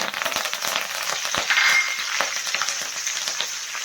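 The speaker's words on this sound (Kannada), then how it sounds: "ನಾನು ಒಂದು ನಾಲ್ಕು ಕಡ್ಡಿಯಷ್ಟು ಕರ್ಬೇವಿನ ಸೊಪ್ಪು ತಗೊಂಡಿದ್ದೀನಿ ಅದನ್ನು ಹಾಕ್ಕೊಳ್ತಾ ಇದ್ದೀನಿ" Curry leaves are dropped into hot oil for mango pickle, giving a close, crackling sizzle with bursts of spattering pops over a steady frying hiss.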